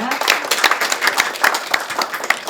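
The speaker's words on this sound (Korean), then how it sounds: "큰 박수로 축하해 주시기 바랍니다" An audience at a memorandum of understanding signing ceremony for a Cyworld metaverse platform applauds steadily, a dense wash of many hands clapping with sharper individual claps standing out throughout.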